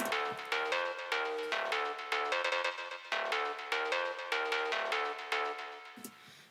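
Analog Dreams synth preset called Garage, played as a top layer: a bright, harmonically rich patch with rhythmic plucked chords repeating steadily, each note decaying before the next, loud and alone.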